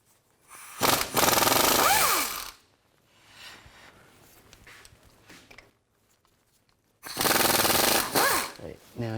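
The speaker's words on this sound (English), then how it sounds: "Now we can take these bolts out, use a 15mm socket." Socket wrench on 15mm bolts under a Chevy Tahoe during front CV axle work, two long loud rattling bursts of rapid clicking separated by quieter mechanical fiddling, close up.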